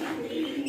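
A pigeon gives a brief, soft, low coo close by, faint and on its own for under a second.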